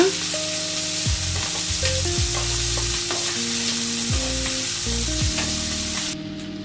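Sliced onion tipped into hot oil with dried red chillies, a steady loud sizzle with stirring scrapes and a faint tonal hum underneath, the frying dropping off slightly near the end.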